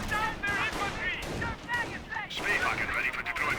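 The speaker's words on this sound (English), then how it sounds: "Taking small arms fire!" Small arms gunfire crackles in a Company of Heroes battle, with scattered rifle and machine gun bursts and distant artillery-like thumps mixed under busy game voices and effects.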